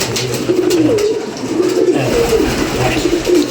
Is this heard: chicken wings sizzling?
no